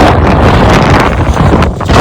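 Strong wind roars across the microphone near the Eiffel Tower in Paris, a loud, continuous buffeting rumble with gusty swells that fills the whole moment.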